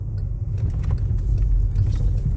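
A car accelerates through a city intersection while moving into the middle lane, a steady low engine rumble with a slight rise in intensity, close and continuous with no talk.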